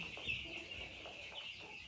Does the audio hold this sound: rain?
no